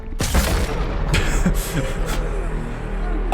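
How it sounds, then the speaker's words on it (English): A heavy explosion in the horror video game Flesh Made Fear, a loud close boom that hits sharply and then rumbles on with a long low tail of debris and noise. "I think I did hurt myself on the explosion."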